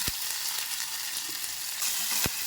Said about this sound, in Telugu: ఇందులోనే కొన్ని ఆనియన్స్ వేసి బాగా కొద్దిసేపు ఫ్రై చేసుకుందాం